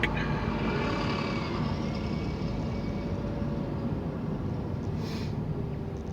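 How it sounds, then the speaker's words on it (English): Steady road traffic rumbles past on a town street, a continuous loud wash of engine and tyre noise with no clear breaks and no talk. "Oh, lots of traffic."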